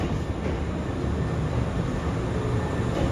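A steady, loud rumbling roar of a train in motion in Kyoto, Japan, continuous broadband noise throughout with no voices.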